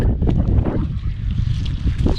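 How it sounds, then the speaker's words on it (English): Strong wind buffeting the microphone at the edge of a Welsh estuary beach, loud, gusty rumbling rising and falling without a break. "sorry about the wind, it's picking up now"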